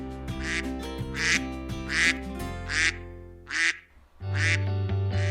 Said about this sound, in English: Ooh, I see a lot of ducks.